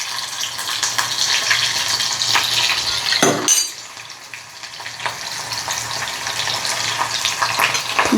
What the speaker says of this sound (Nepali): एकछिन प्याज खुर्याउँछु।